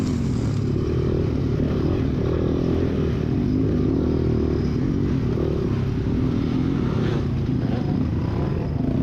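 Several motorcycles race around a practice track, their engines roaring loud and continuous with a steady drone, close by, with no talk.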